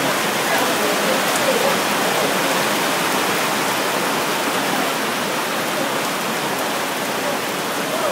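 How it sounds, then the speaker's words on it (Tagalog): Heavy rain pours steadily in Tagaytay, a loud, dense, unbroken hiss of downpour that stays close and even throughout, with no distinct voices heard over it. "Ito, lumakas na yung ulan. Talaga sobrang lakas ang ulan dito."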